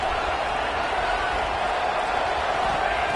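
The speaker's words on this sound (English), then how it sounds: "It's early, but this crowd is fired up. Listen to this noise here." A fired-up stadium crowd roars in a continuous dense wash of noise, loud and steady with no breaks, heard from within the stands at a football game.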